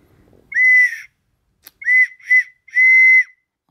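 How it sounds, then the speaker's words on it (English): A pottery ocarina plays several clear, pure whistling notes, some held and some short, loud and close, with a faint bit of talk just before. "Type of flute made out of pottery that can make sound, right?"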